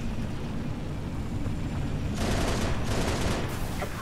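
Turret gunfire in the Halo Reach game during a New Alexandria mission rings out in loud broadband bursts, with a couple of sustained volleys in the second half over steady battle noise.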